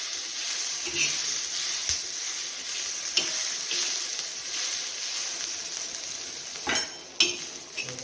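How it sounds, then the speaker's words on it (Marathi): Soft sizzling and frying hiss of onion, tomato and spices on an iron griddle, with occasional scraping and clinks of a utensil against the pan, steady and close. "लोखंडाच्या तव्यामध्ये आपण कांदा टोमॅटो सर्व मसाले भाजून घेऊया"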